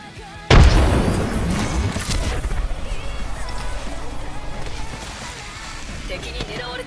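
A grenade detonates in a video game with a sudden heavy boom, followed by a long rumbling, debris-filled tail that slowly fades over several seconds.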